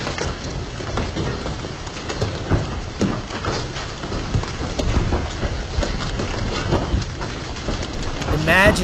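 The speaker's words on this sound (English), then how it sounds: "As intense hail battered Arkansas, we said 4 and 5-inch hail in that region." Large hailstones pelting Lake Washita, Arkansas during a violent storm, a dense, continuous pounding and splashing roar with scattered louder impacts, close and steady throughout.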